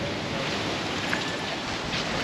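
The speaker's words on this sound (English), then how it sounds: "Very windy." Broadband wind roars steadily across the microphone at a beach campsite in La Ventana, Baja, Mexico, a constant rushing noise with no pauses.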